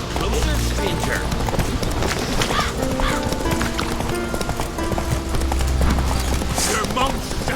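Horse hooves gallop in The Witcher 3 video game, a loud, rapid and continuous clip-clop close up, with game voices and sounds layered over the hoofbeats.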